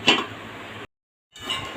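A lid is set onto a cooking pot of simmering eggplant curry, giving a short metallic clink at the start over a steady kitchen hiss, then a brief silence and more quiet clatter.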